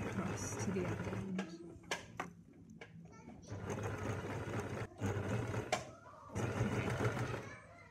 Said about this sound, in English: So Maya's just sewing the edge of her fabric because this fabric is actually fraying quite a lot